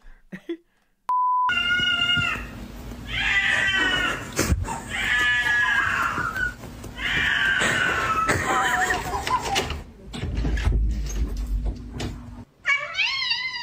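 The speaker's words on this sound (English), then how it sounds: "I hate when cats scream like that" A cat lets out repeated drawn-out, wavering yowls and screams, loud and close, with brief pauses and a few beeps between.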